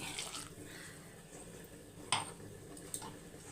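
A glass of water is poured into a pot of mutton curry cooking with ground cashews, a faint splash and soft clinks of a pot and utensils in a quiet kitchen.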